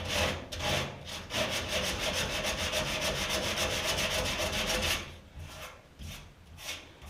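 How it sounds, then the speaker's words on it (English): Hand sanding on the inner fender of a 1966 Ford Galaxie 500 convertible, taking off roughness and rust: steady rhythmic rasping strokes, close and continuous, then slower, more spaced scrubs near the end, with no talking. "I'm just sanding out the roughness and the rust"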